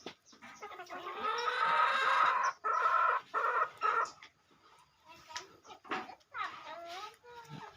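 Egg-laying chickens cluck and squawk nearby in bursts among ducks, with a voice speaking over and between them.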